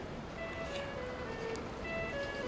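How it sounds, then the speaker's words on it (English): Downtown rush-hour traffic on a city street, a quiet, distant wash of passing vehicles with faint tonal whines drifting through, steady and low in level with no clear talk. "there's quite a bit more traffic down here on Water Street than there was"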